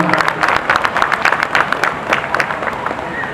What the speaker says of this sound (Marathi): टाळ्या वाजवायच्या सर्वांनी पाहुण्यांचं स्वागत करतो आपण